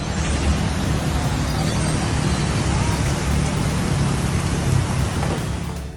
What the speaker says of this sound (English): Heavy torrential rains caused flooding in Guadalajara,